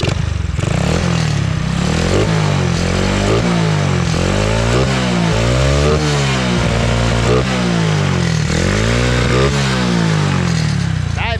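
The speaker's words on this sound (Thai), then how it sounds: "เปิดหัวคันเร่งดูนะครับ" A Honda Wave 100 motorcycle fitted with an N-Pro carburetor revs repeatedly, the engine rising and falling in loud, close, rhythmic throttle blips with no talking.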